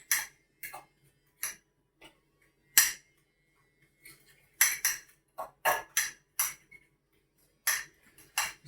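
A spoon clinks and taps against a pot or bowl while brown sugar is mixed into a thick sauce for chicken lo mein, in sharp intermittent strikes with quiet gaps between them, close by and with no talking.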